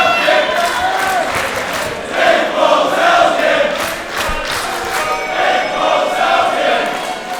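A crowd at a professional wrestling match in the PCW promotion cheers and roars in a steady, dense wash of voices that swells and dips.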